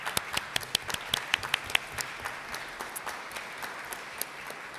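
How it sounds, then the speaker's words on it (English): Scattered applause at a city council meeting in San Antonio, with sharp individual claps standing out near the start before thinning into a lighter, quieter patter from a modest audience. "I would like you to stand and be recognized for applause."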